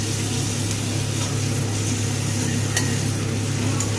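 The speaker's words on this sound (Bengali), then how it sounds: "একই সাথে দিয়ে দেব বেটে রাখা রসুনটাকে দিয়ে ভালো করে পেঁয়াজের সঙ্গে কষিয়ে নেব" Ground garlic frying with onions in a pan for a Bengali-style chicken curry, giving a loud, even, continuous sizzle that holds steady throughout with a faint spatula scrape now and then, close up and with no voices.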